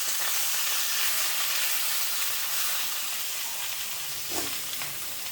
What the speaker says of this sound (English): The next thing I'm gonna fry is my pak choy. I'm gonna fry this with a bit of spring onions.